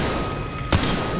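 A single sharp gunshot from a shooting-range target challenge in a video game, a brief loud crack over a steady background hum.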